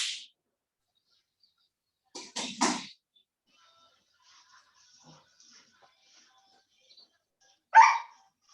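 A few short yaps from a small dog, a quick cluster of sharp barks followed later by one more bark in an otherwise quiet room.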